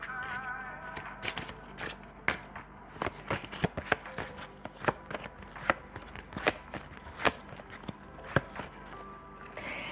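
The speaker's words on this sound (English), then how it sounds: "Now, the cards I'm shuffling are atmosphere." Playing cards are shuffled repeatedly up close, crisp riffling bursts and taps coming in an uneven rhythm against a quiet room.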